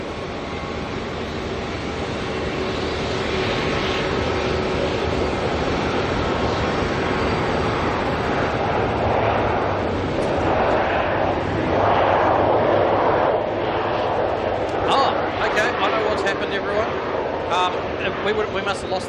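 An ATR turboprop arriving at Auckland Airport from Palmerston North gives off a continuous loud engine roar that builds slightly toward the end, heard from a distance, with voices talking over it.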